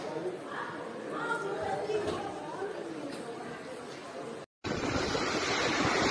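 Storm surf surges and washes over steps during a July 2021 flood in Russia, a loud continuous roar of churning water with wind noise, briefly cut off then resuming.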